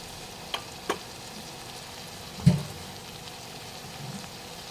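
Spices and salt are stirred into a curry of black-eyed beans and tomato frying in a pan, giving a steady soft sizzle with a few scraping taps of the spoon and one louder knock.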